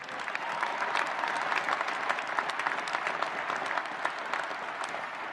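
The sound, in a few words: audience applause at Air Force Academy graduation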